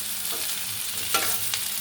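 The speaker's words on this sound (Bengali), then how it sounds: "একটু হালকা ভাজা হবে, একটু নেড়ে দিচ্ছি" Teasel gourd (kakrol) lightly frying in mustard oil while being stirred, a steady close sizzle with a few sharper scrapes of the spatula against the pan.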